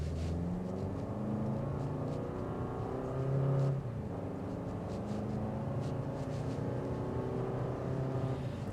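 A 2025 Lexus NX 350 F Sport with a 275-horsepower engine is driven, producing a steady, low engine drone and road rumble that swells slightly for a moment before settling back to an even hum.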